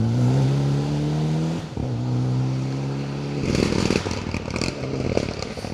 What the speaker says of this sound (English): as we see car 44, Roger Burkill, and the raucous Evo 10